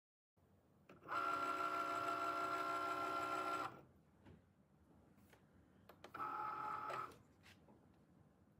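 A Cricut cutting machine whirs and buzzes while cutting a rhinestone template, running in one long stretch and then a shorter second pass, with quiet clicks between.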